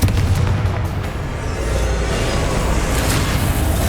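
A Confringo fire spell explodes in Hogwarts Legacy, a loud, dense, rumbling blast with sustained low-end roar and crackling debris that fills the whole moment without fading.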